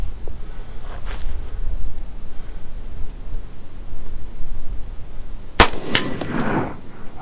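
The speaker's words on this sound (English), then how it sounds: "I got 3 more rounds of the same exact ammo. And as you can see, there's no suppressor on the front" An unsuppressed firearm fires near a target, giving one loud, sharp crack with a brief ringing tail after several seconds of quiet outdoor background.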